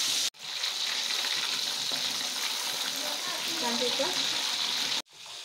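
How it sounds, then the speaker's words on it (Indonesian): Fish fries in a pan of hot oil, a dense close sizzle with popping and crackling that stops abruptly, then briefly resumes. "Lanjut goreng ikan sebagai menu tambahan."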